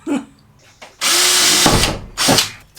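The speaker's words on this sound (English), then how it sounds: "We're going to drill some pilot holes." Power drill boring small pilot holes into the metal roof of a Mercedes Sprinter van, with two loud sustained whirring bursts, the first about a second long and a shorter one after, plus a brief faint buzz beforehand.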